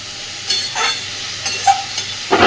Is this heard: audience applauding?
no